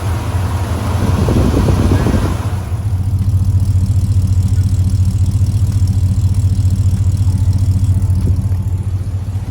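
A GMC Sierra's 6.2-litre V8 idles with a steady, deep, throbbing rumble, loud and close throughout, after a brief burst of broader noise at the start.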